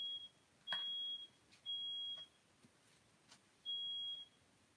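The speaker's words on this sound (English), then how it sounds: "There's a beeping in my house." An electronic beeper inside a house sounds a few sustained high-pitched tones at uneven intervals, faint and alone against quiet room noise with a couple of soft knocks.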